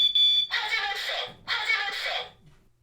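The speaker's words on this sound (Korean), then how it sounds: "방 천장에 둥근 물체를 설치한 뒤 작동 버튼을 누르자 요란하게 울립니다." A battery-powered standalone smoke alarm, newly mounted on a room ceiling in a detached house, blares two loud shrill bursts after its test button is pressed, each lasting about a second with a brief gap between.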